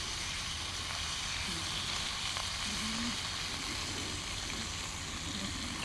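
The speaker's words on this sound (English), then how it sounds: "I don't often ever fry up outside, but I thought I'd have a go today." Food fries in a pan set on an ethanol cooker outdoors, a continuous close hiss and crackle of sizzling fat with small pops scattered through, no voices over it.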